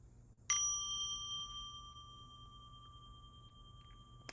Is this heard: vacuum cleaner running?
no